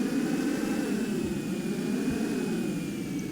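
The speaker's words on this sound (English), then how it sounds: "just kick the engine back in" A VTOL craft's jet engine spools back up in Kerbal Space Program, a steady loud roar with a thin high whine running through the whole stretch, no voices over it.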